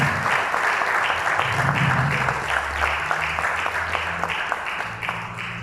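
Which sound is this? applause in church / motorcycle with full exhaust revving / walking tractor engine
applause in church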